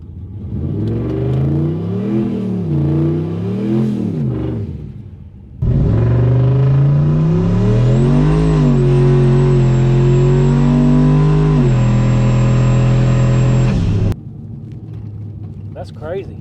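Trucks making test runs at an all-truck street drag race in Newport, Arkansas, rev loudly up close, one engine climbing and falling in pitch, then a sustained high-revving pull that cuts off abruptly.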